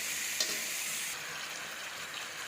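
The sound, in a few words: sautéing taro leaves with turmeric, chilli powder and salt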